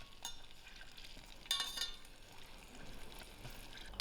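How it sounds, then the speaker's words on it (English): Garlic frying slowly in hot oil in a pan, a quiet continuous sizzle with faint crackles and one brighter spitting burst midway, soft and close with no voices. "I'm going to throw in my garlic to the oil. And I will allow this to fry very slowly."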